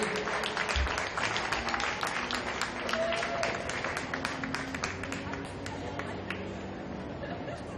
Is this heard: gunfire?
no